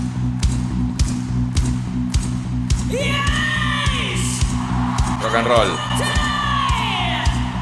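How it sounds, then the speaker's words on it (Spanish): Concert crowd at a rock show clapping and cheering, with rhythmic sharp claps and scattered whoops and shouts over a steady low hum, while a voice speaks briefly over it. "la multitud está aplaudiendo"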